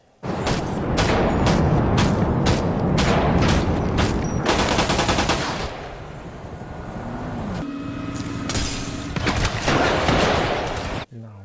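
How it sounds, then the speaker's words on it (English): Rapid gunfire shooting at police, a loud string of sharp repeated shots that gives way to quieter background sounds, then more shots near the end, with voices talking. "He shot at the cops before they could catch him."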